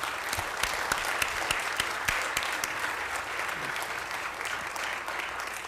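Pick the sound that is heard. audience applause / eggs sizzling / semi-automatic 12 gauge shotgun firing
audience applause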